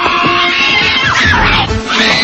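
A woman screams in a tense action movie scene, a sustained loud shrill cry over dense dramatic music and effects, with rising and falling pitch sweeps.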